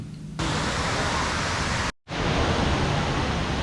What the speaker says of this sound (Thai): คือ น้ำตกกวางสีค่ะ ที่เมืองหลวงพระบางประเทศลาวค่ะ